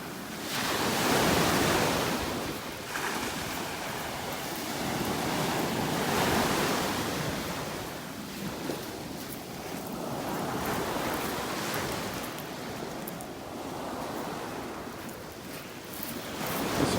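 Beach surf and wind in North Naples, Florida: continuous rushing waves swell and recede in broad surges under a steady blowing wind on the microphone, with no voices.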